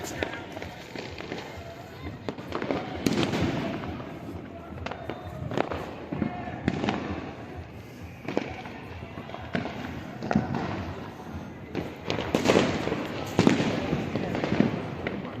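Fireworks and firecrackers burst from every direction around a late-night New Year's Eve picnic, a dense, continuous barrage of cracks and booms at varying distances, with people talking over the noise.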